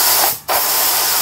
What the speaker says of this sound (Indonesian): Dan ini semprotannya sangat halus, dan saya menggunakan spray gun ini ya.